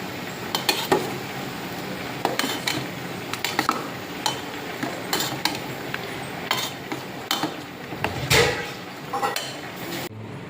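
A spoon scrapes and clinks against a metal pot of Kerala pulissery (yogurt curry) in irregular strokes, close up, with a soft liquid swirl between the knocks.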